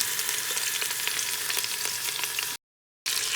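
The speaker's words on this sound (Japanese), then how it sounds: "お肉を入れます。 入れて焼き炒めます。" Wagyu beef back ribs sizzle in hot oil with a steady, close, bright crackle that drops out completely for a moment before resuming.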